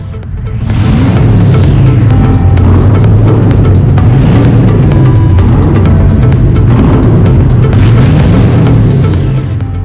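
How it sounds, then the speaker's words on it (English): Harley-Davidson motorcycles roar as riders rev-bomb inside the Moki Tunnel on the Forgotten World Highway. The engine roar is loud, thick and sustained, booming and echoing off the tunnel walls for several seconds with no voices. "Rev bombs, of course, as the Moki Tunnel became our personal concert hall."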